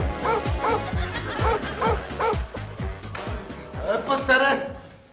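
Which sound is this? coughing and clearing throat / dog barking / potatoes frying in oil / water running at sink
dog barking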